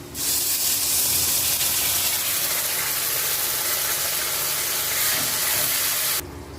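Mustard leaf paste hits hot oil with deep-red fried garlic, giving a loud, steady broadband sizzle that holds for about six seconds and then cuts off abruptly, with no voices.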